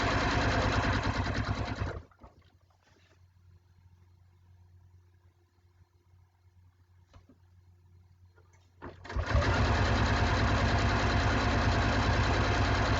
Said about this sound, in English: Sew a little bit further.